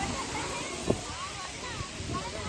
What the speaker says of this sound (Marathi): आता पाणी चालू झालंय. फवारे वाव.